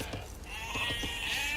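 Sheep bleating in the Age of Empires video game, a few short wavering bleats over a dense bed of game noise and murmur, moderately loud.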